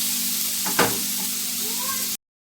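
Prawns frying in a home kitchen pan give a steady, moderate sizzle, with a brief louder scrape or clatter partway through and a low hum underneath; the sizzle cuts off abruptly before the end.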